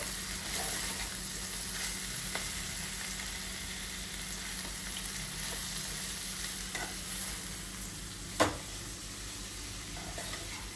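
Turmeric rice and other ingredients are stirred together in a hot pan, giving a steady soft sizzle under scraping spoon strokes, with one sharp knock of utensil on pan near the end.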